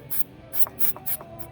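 Lubricant spray is aimed at rusty truck running boards in four quick hissing bursts, near and moderately loud, separated by short pauses.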